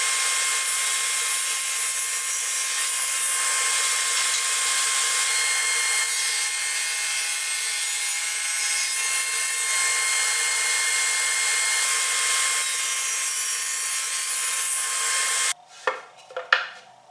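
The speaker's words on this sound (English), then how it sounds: "So I'm going to see if I can get those high quality rip cuts on the new machine." A Shopsmith Mark 7 making a rip cut through wood gives a steady, loud, high-pitched whine that holds evenly for about fifteen seconds, then stops abruptly, followed by a few clattering knocks.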